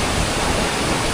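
Water pours steadily at Tad Siang Lue waterfall in Laos during the high-water season, a dense, continuous broadband roar with no pauses, close and loud, with no voices.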